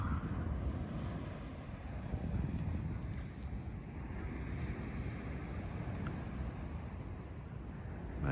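Mediterranean Sea waves wash onto the coast of Spain near Motril in a soft, steady, far-off rumble of surf mixed with wind buffeting the microphone.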